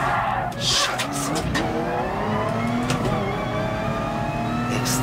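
A race car in Gran Turismo Sport at Fuji International Speedway screeches its tires as it slides out of control, with the engine revving and droning steadily beneath the squeal, loud and close throughout.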